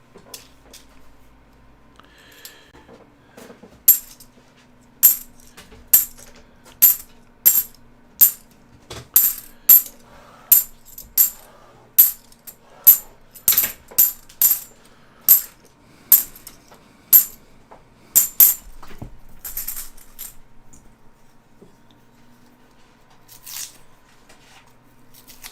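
Coins from unwrapped rolls drop one after another during a coin roll hunt, a long series of sharp metallic clinks at a steady rhythm, close and crisp against a quiet background.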